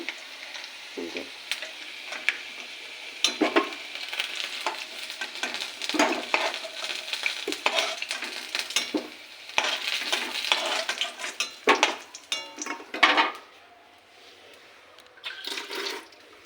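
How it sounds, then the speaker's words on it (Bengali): Potatoes sizzle in a pan, fried until reddish-brown, while a utensil stirs and scrapes them in irregular bursts, close and moderately loud, with no talking. "আলুগুলো লাল লাল করে ভাজা হয়ে গেছে, এবার তুলে নেব"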